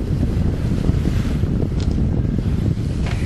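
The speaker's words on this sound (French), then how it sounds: "notre navire joue avec la mer, il joue avec les vagues, il se lève, il redescend" A sailing ship rolling in waves at sea, loud gusting wind buffeting the microphone over a heavy rumble of water, continuous and close, with no speech.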